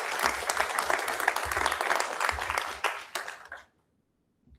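A room at a school board meeting claps for a championship high school team, a steady round of applause that fades out quickly into silence.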